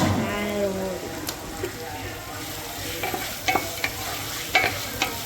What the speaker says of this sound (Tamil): இது வந்து நல்ல கோல்டன் கலரில் வர்ற வரைக்கும் நம்ம வந்து ஃப்ரை பண்ணிக்கலாம்